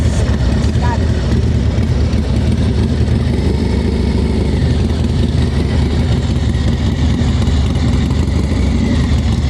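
A motorcycle engine runs at low speed during slow-speed riding practice, with the clutch slipped against the rear brake. It gives a steady, continuous low rumble close by, with no clear revving.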